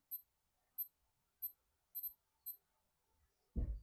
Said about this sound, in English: Oh, it also beeps.